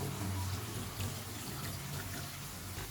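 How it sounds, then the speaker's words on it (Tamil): Steady running water poured into a bowl of tamarind to soak, continuing evenly throughout with a brief clink at the end. "தண்ணி ஊற்றி ஊற வச்சுக்கலாம்."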